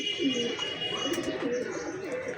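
Giribaz pigeons coo indoors in a room while rain falls outside, with soft repeated throaty coos close by over a faint steady background hiss.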